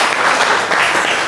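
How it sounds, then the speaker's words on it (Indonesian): Loud, dense applause from a classroom group of students, a steady wash of many hands clapping together with no one talking over it. "Tepuk tangan dulu"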